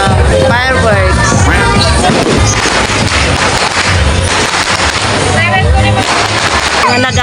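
Neighbours' New Year fireworks bursting in a dense, continuous barrage, loud and close, with crackling and booms running through the whole stretch while voices and party noise carry underneath.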